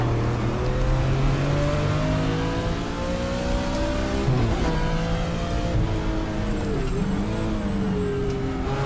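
A race car in the GTR2 racing game runs past the start-finish line and pit area at the Nürburgring, its engine loud and steady with rising and falling revs, with no talk.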